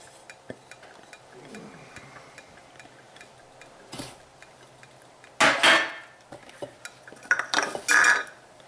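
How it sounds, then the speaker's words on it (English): A spoon works through a bowl of apples and butter mixture, with faint clinks at first, then a few louder scraping and clattering strokes against the bowl near the end, close by and without voices. "we're going to mix this butter mixture here with the apple stuff"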